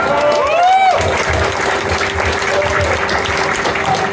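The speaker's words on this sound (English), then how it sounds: "Don't applaud until you've heard it." Applause and crowd noise filling the space at a concert in Cologne, with a voice speaking over the clapping early on.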